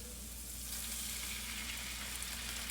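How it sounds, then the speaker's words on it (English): Vegetable stock deglazes a hot pan from seared salmon, producing a steady, hissing sizzle that holds at an even level throughout, close and with no talking. "you go ahead and you deglaze your pan"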